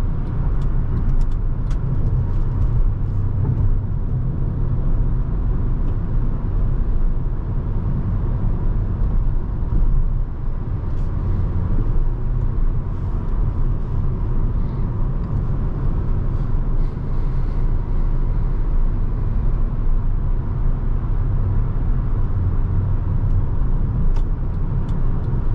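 A 2010 Honda Accord EX-L V6 drives along winding roads, its engine and tire noise forming a steady, continuous cabin drone with no one speaking.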